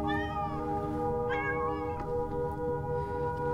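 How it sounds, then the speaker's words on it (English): A house cat meows in several drawn-out, rising and falling cries, loud and close, in a quiet indoor room with no talking. "Jeez, this cat."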